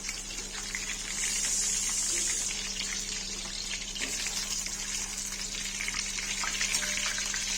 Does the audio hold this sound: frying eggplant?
yes